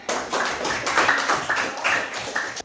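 Scattered clapping from a small classroom group, a few claps spread over a couple of seconds, moderately near with no talking.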